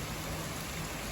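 Monsoon rain falls steadily on a home garden in Surat, a dense, even hiss of rain that runs through the whole moment without any talk.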